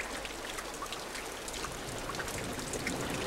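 Steady water in the Limbo game rushes and trickles as a continuous, even wash with faint droplet patter, soft and unbroken throughout.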